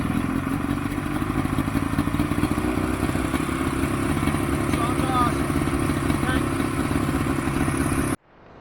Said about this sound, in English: he gutted out the exhaust on it, re-welded it in so it's got a nice little purr to it